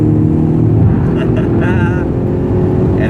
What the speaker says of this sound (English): So here is 4th gear pull, about 60 miles an hour right here